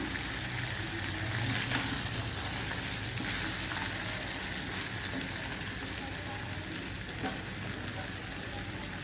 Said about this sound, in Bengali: এটাকে আস্তে করে একটু নেড়ে দেবো।